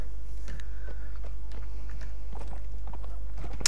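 Horse hooves clip-clop at a steady walking pace through town streets in the video game Mount and Blade Warband, over a constant low background hum.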